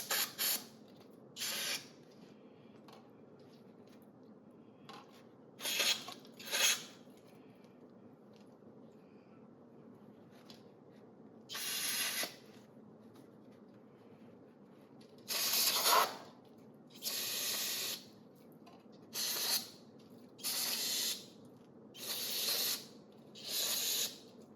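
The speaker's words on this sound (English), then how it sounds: "the first thing I'm going to do is I'm going to clean all these bolt holes out" Short bursts of compressed spray blast into the bolt holes of a small block Ford engine block during cleaning, about a dozen hissing sprays spaced by quiet pauses, the later ones coming in a steady rhythm.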